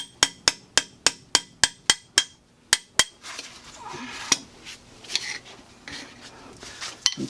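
Steel chisels struck sharply with a hammer, about ten evenly spaced ringing blows, then scraping, prying and scattered knocks as carpet is worked off a concrete floor in the back of a closet.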